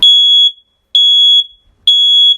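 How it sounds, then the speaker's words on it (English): A wireless smoke detector emits three loud, piercing high-pitched beeps, each about half a second long, evenly spaced with short silent gaps between them, close and alone. "Smoke alarms may annoy,"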